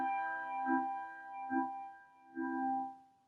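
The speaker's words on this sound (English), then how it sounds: "Some of the other bell techniques that we can do is called the wah-wah." A single handbell rings with the wah-wah technique, its sustained tone swelling and fading three times in a slow, regular pulse as the sound opens and closes, heard close and alone.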